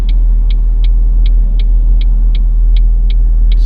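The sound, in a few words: car driving to the lake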